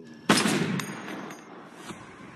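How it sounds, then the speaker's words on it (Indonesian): A gunshot in the action film Awakener, one sharp loud blast followed by a decaying rumble and a few fainter cracks, with no talking. "si Miguel pun seketika menembak anaknya itu dengan tujuan untuk membuat dia jera dan taubat"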